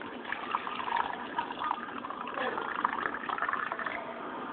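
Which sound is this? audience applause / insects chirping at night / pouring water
pouring water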